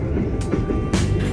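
The Tbilisi-Batumi passenger train rolls along the rails with a continuous loud low rumble heard from inside, punctuated by periodic clacks of wheels over rail joints.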